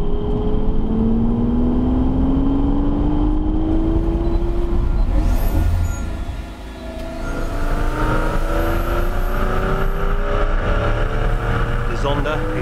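Pagani Zonda with a naturally aspirated 7.3-litre AMG engine and Pagani Huayra with a turbocharged 6-litre AMG engine run together on the Goodwood track, loud engines rising in pitch through gears, drivers accelerating steadily with a brief dip midway.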